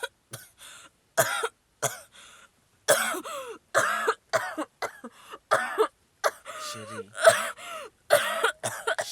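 Person coughing repeatedly, with a series of harsh, close bursts and throat clearing broken by short pauses, alone and with no speech over it.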